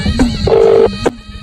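A telephone rings loudly on an outgoing call to a village head: short electronic ring tones in a couple of close bursts, then a quieter tail.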